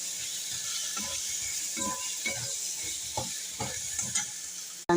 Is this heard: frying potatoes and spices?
yes